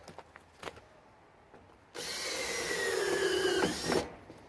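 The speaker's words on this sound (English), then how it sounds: "drill a hole" After a couple of seconds of faint tapping, a power drill whirs steadily for about two seconds, boring a hole in an IBC tote tank, its pitch sliding down as it bores, then cuts off.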